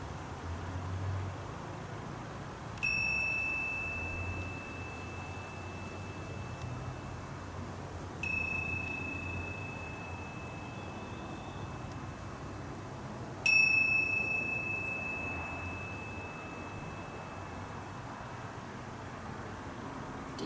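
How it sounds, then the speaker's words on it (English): A small bell rings three times, each clear tone fading slowly before the next strike, in a quiet yoga session with no talk. "Hearing that little bell"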